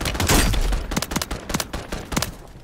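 Rapid bursts of gunfire ring out in the Call of Duty video game, loud and close, a dense volley followed by several sharp shots in quick irregular succession with no talk.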